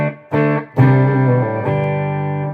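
A Hayden Mighty Mofo 5-watt tube guitar amp, cranked to full volume with the gain down, rings out clean sustained guitar chords, with several strums and notes held strongly and loudly.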